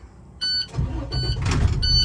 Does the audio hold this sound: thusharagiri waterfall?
no